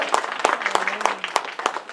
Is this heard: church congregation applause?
yes